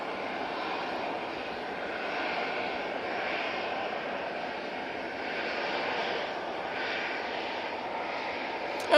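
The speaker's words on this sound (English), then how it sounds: "We have the Air France A220 making its way over to us on 23 left." An Air France A220 airliner taxis along runway 23 left at Manchester Airport, giving a steady, even engine roar at moderate distance with wind noise and no talk.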